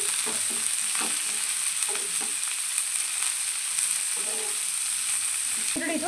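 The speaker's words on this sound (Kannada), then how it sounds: "ಹಸಿ ಸ್ಮೆಲ್ ಹೋಗೋವರೆಗೂ ಸ್ವಲ್ಪನೇ ಫ್ರೈ ಮಾಡ್ಕೋಬೇಕು" Green chillies, ginger, garlic and onion fry in a pan for paneer masala gravy, with a steady bright sizzle and a few scraping stirs heard close up and alone.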